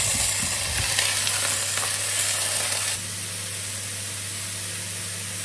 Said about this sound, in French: je vais rajouter tout simplement le brocoli qui est cuit du coup